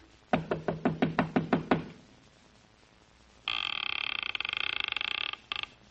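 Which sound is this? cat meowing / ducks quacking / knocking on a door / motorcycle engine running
knocking on a door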